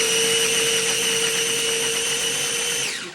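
A food processor whirs steadily as it blends roasted red peppers, a high, even motor whine that holds for a few seconds before spinning down.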